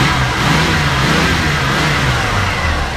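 A 1981 Chevrolet El Camino Conquista engine, with a 4-speed manual, revs loudly up close, a deep rumbling roar rising and holding throughout with no voices.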